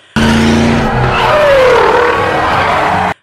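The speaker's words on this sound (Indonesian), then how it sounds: "Mobil-mobil mulai memasuki terowongan itu" Cars rush into a tunnel during a Die Hard film chase, with loud engines and squealing tires building to a sustained roar that ends abruptly.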